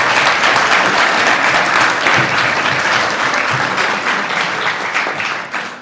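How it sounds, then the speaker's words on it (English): A crowd at a Racine mayoral candidate forum applauds the two candidates, with sustained, full-room clapping at a constant loud level that tapers slightly near the end. "Let's give them an excellent round of applause."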